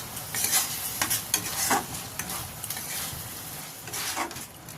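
Potato curry with green chilies and sugar is stirred and sautéed in a pan: a close, steady sizzle broken by repeated scraping stirs, with no talking.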